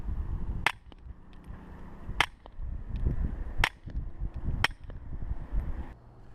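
Suppressed rifle shots from a CZ455 bolt-action rifle fitted with an Osprey Micro suppressor firing Gemtech subsonic ammunition: four sharp, dull reports spaced about a second apart over a steady low background rumble.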